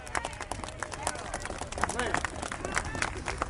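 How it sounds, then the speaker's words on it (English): Crowd applause at an outdoor rally against killings, scattered clapping and cheers from people gathered outside, with voices mixed in. "let's give ourselves a round of applause for being out here"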